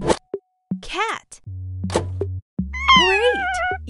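Several synthetic cartoon-style cat meows, each with a bright electronic chime and plopping sounds between them, over a steady low game hum.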